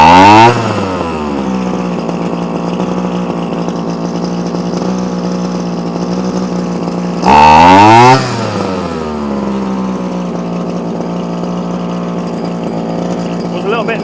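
Komatsu Zenoah strimmer two-stroke engine idling steadily and loud after a throttle adjustment, with two brief revs, one near the start and a stronger one midway, before settling back to idle.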